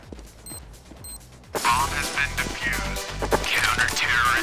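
Counter-Strike: Global Offensive gunfire in a match: rapid bursts of close shots and mechanical clatter start after a quiet opening with a few small beeps, continuing loud and dense to the end with talk over it.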